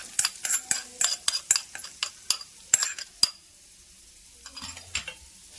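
Ghee tempering for a crushed radish sambar, sizzling as a spoon stirs it, with a quick run of sharp metallic clinks and scrapes that ease off into a quieter, faint sizzle.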